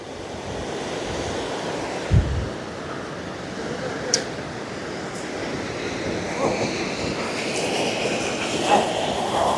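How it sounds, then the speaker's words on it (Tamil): Steady broadband rush of fast-flowing floodwater under a broken bridge in Mullaitivu, a continuous turbulent roar with a few brief knocks and splashes, no voices. "இந்த பாலத்தில் வந்து தண்ணி ஓடுறது"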